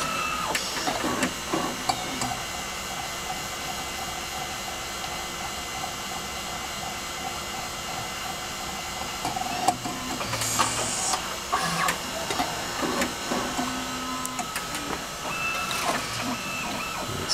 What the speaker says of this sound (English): It takes the notch where it needs to be and back to the cassette.